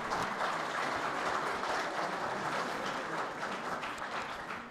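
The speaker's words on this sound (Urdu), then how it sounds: "میں چاہوں گا کہ آپ ہمارے ان لوگوں کے لیے تالیاں بجائیں۔" An audience at a youth seminar in Balochistan breaks into sustained applause, a loud, dense clatter of many hands that holds steady and then slightly eases toward the end.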